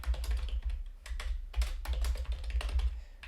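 Code is typed on a computer keyboard at close range, a quick uneven run of clicky keystrokes with brief pauses and a few heavier taps, with no talking.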